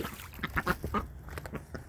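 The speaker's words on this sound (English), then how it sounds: "The new duck is so bossy." A duck in a garden greenhouse gives a quick run of short, nasal quacks, close and fairly soft, with small rustling noises around it.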